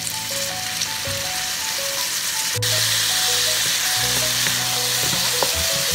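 Beetroot and wheat gluten sizzling in a wok with sugar and a splash of dark soy sauce, a continuous close hiss broken by spatula scrapes and stirring clatter, with no one speaking.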